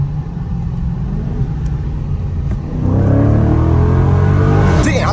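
A 2023 Dodge Charger Scat Pack Last Call accelerates hard in traffic under paddle shifting, its close, loud engine rumbling steadily before surging into a rising, throatier roar partway through, with no talk over it.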